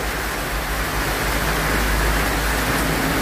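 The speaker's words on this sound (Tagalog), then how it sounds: "Dari sa mua nag-ulan na kusog kayong ulan." Heavy rain pours down without letup, a dense, loud, unbroken roar of broadband hiss that fills the whole stretch.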